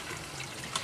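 Water splashes steadily as it is poured by hand into a small container, a continuous close, moderately loud liquid rush lasting under a second with a slight surge near the end.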